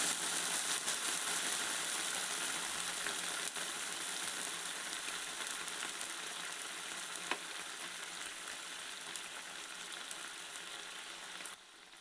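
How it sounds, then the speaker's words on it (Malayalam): Sweet corn soup simmering in a pan after a cup of water goes in, giving a steady, fairly loud sizzle and bubbling hiss that holds through the whole stretch and drops slightly at the very end. "ഇനി ഇതിലേക്ക് ഞാൻ ഒരു കപ്പ് വെള്ളം ഒഴിച്ചു കൊടുക്കാൻ പോവുകയാണ്."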